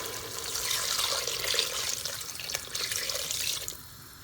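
Water is poured steadily from a glass into a cooking pot of meat to make stock for Mughlai pulao, a continuous splashing gush that tapers off near the end, with no one talking.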